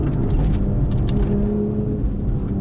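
A Porsche 991.1 GT3 engine revs hard on track toward 9,000 RPM, loud and close with a low, dense rumble and a rising tone that holds steady throughout.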